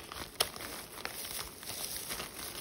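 Packaging being unwrapped gives a close, continuous crinkling and crumpling rustle, with one sharper crackle near the start and a steady scratchy texture after it.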